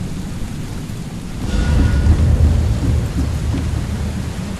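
Thunderstorm in the video game The Sinking City: heavy steady rain with a deep rolling thunder rumble building and lingering, loud and without voices.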